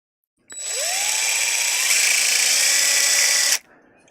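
A power drill with a dull bit bores a hole, likely inside a van, giving one loud, close, continuous whine of about three seconds that starts and stops abruptly, with no talking.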